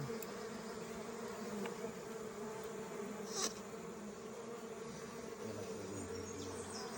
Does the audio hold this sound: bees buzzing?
yes